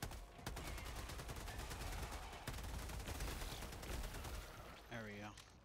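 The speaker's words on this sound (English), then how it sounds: "I gotta get in here and shoot up these eggs" Rapid, dense automatic gunfire rattles continuously as bug eggs are shot up in the video game Helldivers, a loud unbroken stream of shots with a voice briefly speaking near the end.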